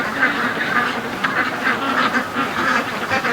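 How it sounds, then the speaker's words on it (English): Ducks quack repeatedly in a backyard under strong wind, a busy overlapping chorus of calls at close to medium range over a steady rush of wind noise. "The poor ducks."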